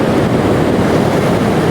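Rushing water from a waterfall roars as steady, dense broadband noise, loud and close, with no voices.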